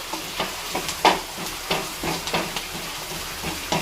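Onions sautéing in a pan until they brown, giving a steady soft sizzle broken by irregular scraping knocks as they are stirred, close and without talk.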